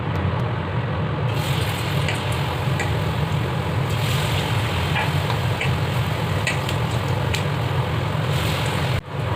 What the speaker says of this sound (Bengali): এইভাবে আমি সমস্ত বেগুনিগুলো ভেজে নেব।